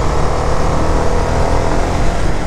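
A CFMOTO 300SR sport motorcycle's engine held at raised revs, a steady dense mechanical drone filling the whole stretch at close range with no voices.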